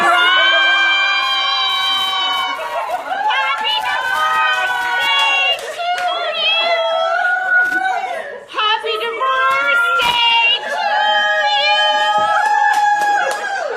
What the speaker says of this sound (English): you might just love the opening cheer in this surprise party